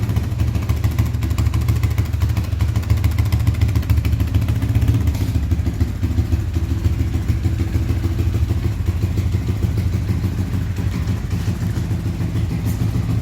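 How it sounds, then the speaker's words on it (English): A motorcycle with a swapped-in Lifan 200cc engine idles steadily and close by, a low rumbling drone with light mechanical clatter that holds even throughout, with no voices. "Idling good."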